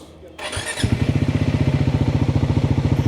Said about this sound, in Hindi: अभी मैं अपनी बाइक ऑन करता हूँ